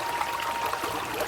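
Water trickling and splashing into a clay pot, a steady close pour with a bright watery hiss throughout and no voices.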